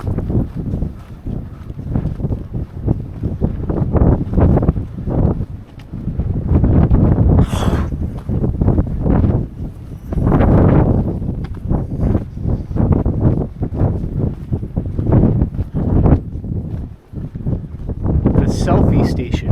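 Gusty wind buffets the microphone on Pier 8 in Hamilton, blowing snow along, with rough low rumbling pulses that rise and fall throughout while a person talks over it.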